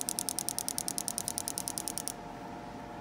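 Rapid, evenly spaced clicking from a high-mileage fuel injector pulsing on a makeshift test rig with a push button, about twenty sharp ticks in a steady rhythm that stop abruptly, leaving a low hum.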